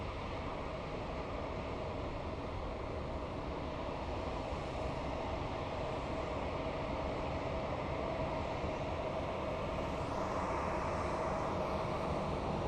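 A Southwest airliner takes off at night at Sky Harbor airport, a steady, fairly faint engine roar that holds for the whole stretch without any talk.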